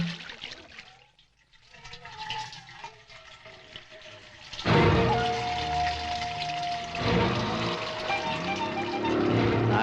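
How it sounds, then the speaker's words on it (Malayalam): Water poured from a public corporation pipe, quiet at first, then a loud, continuous splashing gush that bursts in midway and keeps rushing close by to the end. "എടാ വെള്ളം ഒഴിക്കാൻ"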